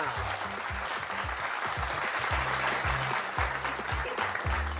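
Audience applause, a steady round of clapping from a crowd lasting throughout, with music playing underneath.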